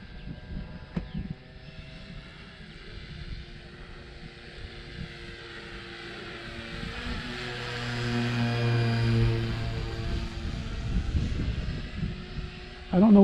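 E-flite RC model airplane flying in wind, its propeller buzz droning steadily and rising in pitch, with a faint voice near the start and some wind rumble.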